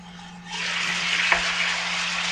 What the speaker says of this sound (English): Get that sauteing in there.